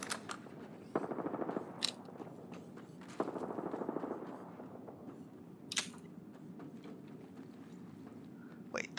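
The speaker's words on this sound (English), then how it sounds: "there's gunfire right there" Gunfire in the battle-royale game Apex Legends, two bursts of rapid automatic fire, fairly faint and a little distant, followed by a few sharper isolated shots and clicks over low background noise.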